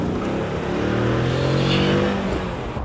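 A Mercedes 124 sleeper car drives with a loud, steady engine drone that swells and eases slightly as it pulls along, with no talk over it.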